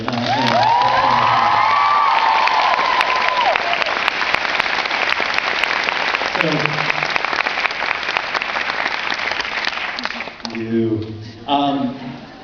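Cheering and applause from the audience at a film premiere Q&A: loud, steady crowd clapping with whoops and shouts early on. The clapping fades near the end as people begin talking.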